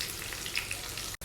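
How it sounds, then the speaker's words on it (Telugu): Steady close sizzle of spices tempering in hot oil in a pan for a beetroot fry, continuous crackling frying that cuts off abruptly at the end. "చూడండి తాలింపు అంతా ఫ్రై అయిన తర్వాత"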